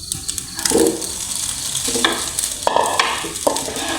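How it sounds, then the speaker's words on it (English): A spatula stirs egg fried rice in a sizzling pan, with irregular scrapes and clacks over a constant close frying hiss. "and stir to mix everything together."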